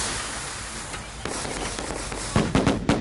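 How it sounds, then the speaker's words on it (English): A firecracker in the Dead by Daylight horror game crackles in a rapid string of sharp pops near the end, following a stretch of hissing sizzle, moderately loud with no talk over it. "What? You want me to drop a firecracker?"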